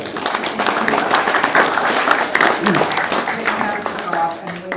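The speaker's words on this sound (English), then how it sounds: "can we just give them a round of applause?" A crowd at a city council meeting claps for city staff, a dense, fairly loud round of applause with voices mixed in beneath it.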